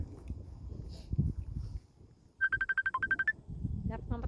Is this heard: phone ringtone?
yes